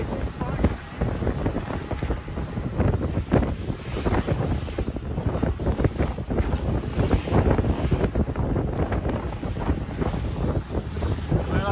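Strong wind at sea aboard a sailboat off the Dodecanese islands of Greece, a constant loud roar of gusts buffeting the microphone with water and wave noise beneath, steady and close throughout.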